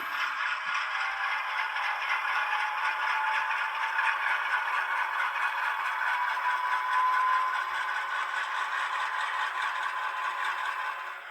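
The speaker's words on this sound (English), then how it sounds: "And we'll put it in dynamic brakes so we can hear it." A steady whirring, grinding hum from a ScaleTrains Rivet Counter C39-8 model locomotive in dynamic braking, sustained and even, fading slightly at the end.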